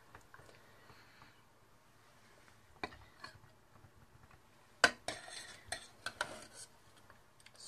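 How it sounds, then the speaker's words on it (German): Rice spooned onto a plate while serving stuffed peppers, faint scrapes and a few sharp clinks of a metal spoon against china in a quiet kitchen. "als erstes tun wir ein bisschen Reis auf den Teller."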